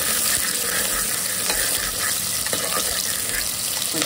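Small onions frying in oil for mutton curry: a steady, dense sizzle close up with occasional stirring scrapes, no speech.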